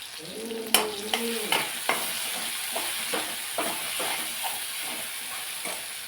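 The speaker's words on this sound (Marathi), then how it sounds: "जे मिरची लसूण आणि जिरे आपण वाटून घेतलेले त्यातल्या निम्मे मी त्याच्यात टाकले तेलामध्ये ते आपल्याला परतून घ्यायचं आहे" Ground chili, garlic and cumin sautéing in hot oil for a spinach vadi, a steady close sizzle broken by repeated sharp scrapes and knocks of a spoon stirring against the pan.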